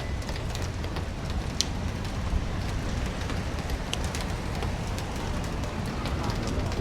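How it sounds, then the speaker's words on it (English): Light rain during the rainy season in Cambodia falls in a steady, even hiss with scattered faint ticks of drops, continuous and fairly close. "It's raining a little bit. It's not too bad. It's rain season."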